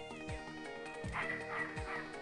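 A dog barks repeatedly in the video game Snatcher, three sharp yips at roughly even intervals with whimpering tones between them over faint background game music.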